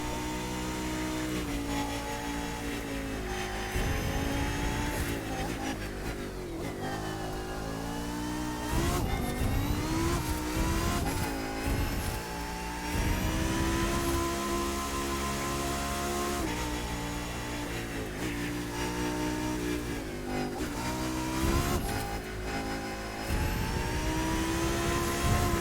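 A car engine in The Crew 2 racing game revs hard and loud, pitch climbing and falling through gear changes over a long stretch, then easing off as the car brakes.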